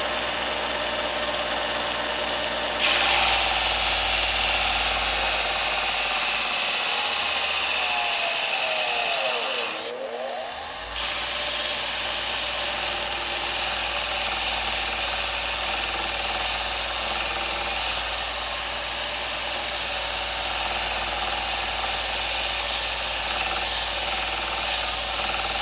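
Bench grinder/sander grinding down material, a loud continuous abrasive roar over a steady motor hum that starts abruptly and briefly dips in pitch under load midway, then resumes steadily.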